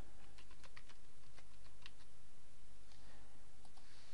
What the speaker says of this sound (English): And type in my password